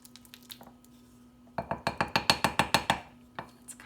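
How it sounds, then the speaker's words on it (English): A wooden spoon presses sticky cupcake batter against the side of a glass bowl, giving a close series of bright, evenly spaced clinks that quicken into a steady rhythmic run before a few last taps. "using the back side of the wooden spoon and kind of pressing it up against the side of my glass bowl there"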